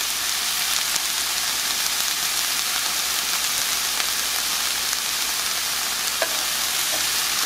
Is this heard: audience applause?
no